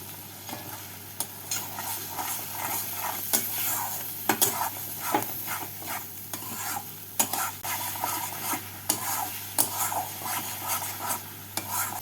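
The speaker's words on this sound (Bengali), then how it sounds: "এবার মশলাটাকে ভালো করে কষিয়ে নেব" Masala paste with a spoon of sugar sautéed in a pan for egg kofta curry, a continuous close sizzle with frequent scraping strokes and spoon taps in an uneven rhythm.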